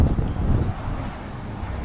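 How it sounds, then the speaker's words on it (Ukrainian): Gusty wind buffets the microphone with a steady low rumble, loud and close, with no other clear sounds. "Ще й вітряно так"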